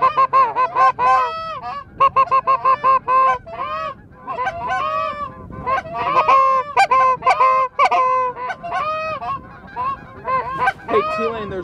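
A flock of geese honking loudly and continuously during a goose hunt, many overlapping calls close by, with a faint voice briefly underneath.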